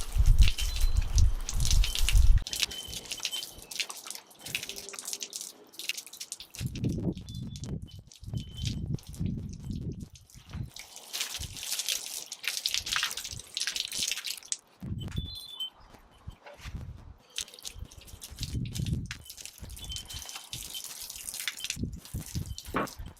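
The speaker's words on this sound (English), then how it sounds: "Time to run the tap so I can rinse them." A kitchen water tap runs in irregular gushes and splashes while beetroot is rinsed beneath it, with uneven bursts, drips and wet handling noises, and no talking.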